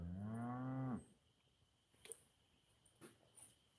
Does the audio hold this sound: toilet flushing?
no